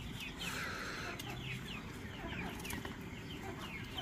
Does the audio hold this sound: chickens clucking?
yes